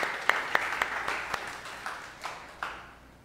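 A congregation claps for Jesus during a Sunday church service, giving scattered, fairly sparse claps that ring out one by one in a reverberant room, moderately loud and fading toward the end.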